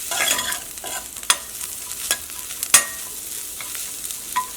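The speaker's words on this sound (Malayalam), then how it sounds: "സവാള ഒന്ന് സോഫ്റ്റായിട്ട് വരട്ടെ." Onions softening in a hot pan for egg Maggi masala, stirred with sharp scraping clicks of a spatula over a low, steady sizzle, close by and moderately loud, with no talking.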